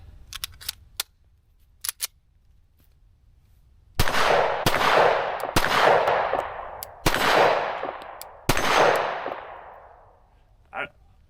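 Five loud gunshots from a Sig Sauer P365 AXG Legion pistol, spaced about a second or two apart, each with a sharp crack and a long ringing decay, after some faint clicks and handling noise.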